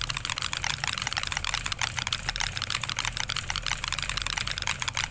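Rapid, steady typing on a loud computer keyboard, a dense stream of close clicking keystrokes over a low background hum.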